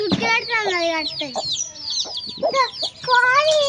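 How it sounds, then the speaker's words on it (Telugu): Young chicks cluck and peep close by in a lively, rapid flurry of high calls, with a voice talking over them at times. "సరే కోడి పిల్లలు రా కోడి పిల్లలు"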